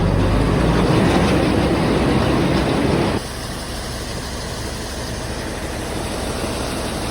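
A Massey tractor engine idles while warming up, a loud, steady low rumble close by that drops to a quieter, even drone partway through, with no voices.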